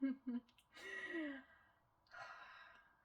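Person with asthma breathing heavily, a few labored gasping inhalations and sighing exhalations, close and quiet, following brief vocal sounds.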